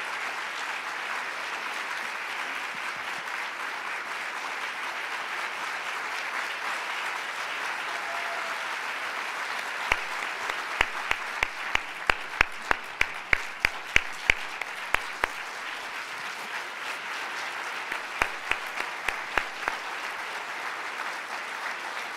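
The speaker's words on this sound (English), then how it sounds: "You can applaud." An audience at a Washington award event applauds the International Women of Courage Award recipients: low steady hall ambience builds into a run of sharp close claps, scattered and rhythmic, with a few more near the end.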